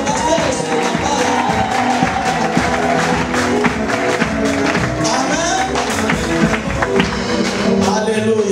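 A church congregation applauds for a visiting pastor, with dense continuous clapping and crowd cheering mixed with background music and voices.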